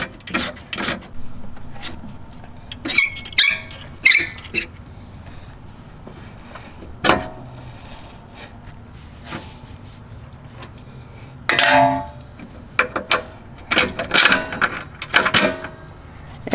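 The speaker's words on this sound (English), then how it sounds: "adjust the shock or strut to match along the holes, and then just bolt it right in." Bolting a coilover shock or strut into place: scattered metallic clicks, rubs and wrench ratcheting, close and intermittent, with quiet pauses between bursts of work.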